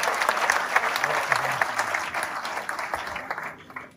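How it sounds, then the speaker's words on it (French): Audience applause fills a town hall during a mayor's New Year wishes ceremony, a dense steady patter of many hands that runs throughout and fades slightly near the end. "je vous demande de les applaudir"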